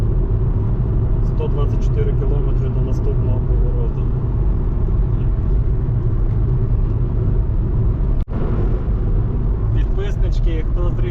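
A car drives along a Ukrainian country road in cold weather, heard from inside the cabin as a steady, loud engine and tyre rumble, with people talking over it.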